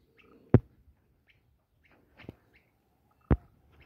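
A small bird sings outdoors on a cattle farm in short, sharp chirps, three clear bursts a second or so apart over a quiet background, with fainter twitters between them.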